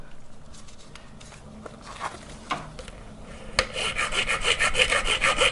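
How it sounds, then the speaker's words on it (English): Cutting tool working through the collar of an old rubber bushing on a GY6 scooter, with scattered scraping rasps and taps that build into louder continuous grinding toward the end, nearby and with no talk. "But I'm gonna cut the collar out on the outside here."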